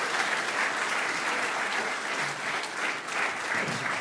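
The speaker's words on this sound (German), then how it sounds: "Dann großen Applaus für den Herrn" Audience applause at a live comedy club show fills the room as a steady, dense wash of clapping, moderately loud and continuous, with no voices standing out.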